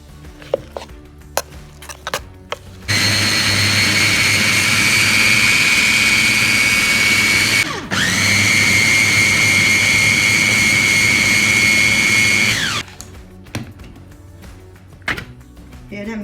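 A food processor grinds chickpeas for falafel in two long, loud whirring runs with a brief pause between them, preceded and followed by quieter kitchen clatter.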